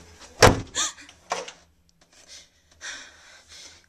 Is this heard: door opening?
yes